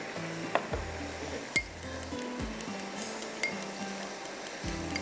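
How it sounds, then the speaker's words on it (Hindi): A utensil stirs mutton rice in a pot, with scraping strokes, a few sharp metallic clinks against the pot, and a soft sizzle underneath, close and steady. "मैं इसको मिक्स कर लेती हूँ यहाँ पर"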